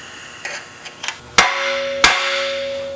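Two loud, sharp metallic hammer strikes on a car's lower control arm ball joint taper during a coil spring job, preceded by a few lighter taps, each blow leaving a ringing tail; no speech.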